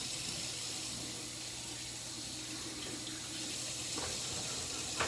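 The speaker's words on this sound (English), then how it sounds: "Turn on your water." A tap runs for handwashing, giving a steady, even stream of water splashing into a sink, moderately quiet and continuous with no speech.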